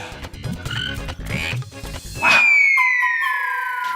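A voice imitates a frog's croak with a rapid, rhythmic burst of low calls, then it gives way to a loud, falling siren-like whistle that holds to the end, set in a Hindi animated fantasy scene about a shape-shifting serpent woman.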